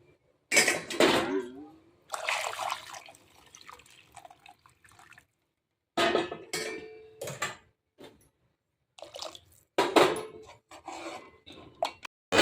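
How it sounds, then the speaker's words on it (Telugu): Water poured into a pot of chicken biryani gravy comes in several short, splashy bursts with pauses between them, alongside clinks of a vessel and the metal pot, all close by. "గ్రేవీలోనే మనం ఎంత రైస్ తీసుకున్నామో దానికి తగ్గట్టు వాటర్ పోసుకుందాం."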